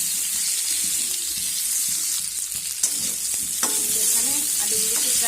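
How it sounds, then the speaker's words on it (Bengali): Potato pieces with turmeric powder sizzle and fry steadily in a pan while being stirred, with scraping clinks of a spatula mixing in toward the end. "আলুগুলো দিয়ে আমি এইভাবে নেড়ে করে ভেজে নেব"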